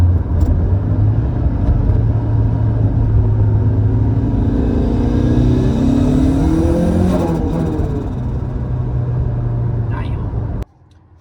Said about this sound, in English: Let's see if I can brake boost it.